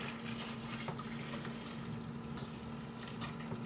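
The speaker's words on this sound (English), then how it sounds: "I use the same container and just add hot water to it." Hot water poured into the container used for browning beef spare ribs, a soft continuous splashing fill heard close but faint, with a steady low hum behind it.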